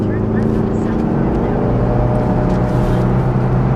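A Chrysler PT Cruiser Turbo convertible stuck in second gear, likely in limp mode, holds a steady loud engine drone with a constant low hum and no gear changes, heard from inside the car.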